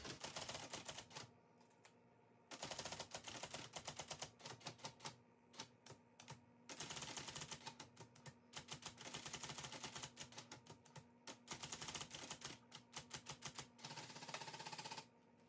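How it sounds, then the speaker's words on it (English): A 1960s IBM Selectric electric typewriter types automatically in rapid clattering bursts, dense runs of striking keys separated by brief pauses and carriage returns, close and fairly loud with no talk. "let's see how the typewriter does it"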